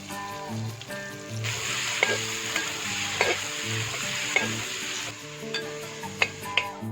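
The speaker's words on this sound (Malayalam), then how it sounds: "സവാള വഴറ്റാനായിട്ട് സവാള ഇട്ടുകൊടുക്കുക" Onions sautéing in hot rice bran oil for Malabar chicken dum biryani hiss in a steady, loud sizzle, with occasional sharp clinks of a spoon against the pan and no talk.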